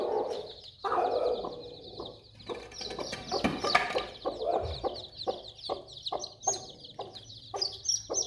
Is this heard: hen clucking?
yes